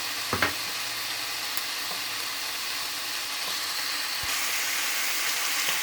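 Chicken tenders sizzling in a pan, a dense steady hiss of frying fat heard up close, with a couple of soft knocks near the start and a slight swell in intensity toward the end, no speech.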